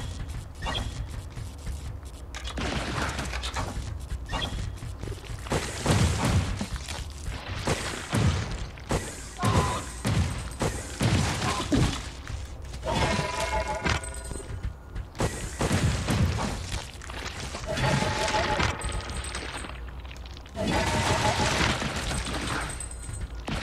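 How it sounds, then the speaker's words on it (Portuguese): Shots and explosive impacts in the video game Ghost Song as missile fire breaks open a destructible passage; a steady run of loud thumps, booms and rattling blasts over a dense game soundscape, with no talk. "Os tiros, vai ser o tiro de fogo ou o tiro de míssel mesmo, conseguem causar dano suficiente ali pra destruir essa passagem."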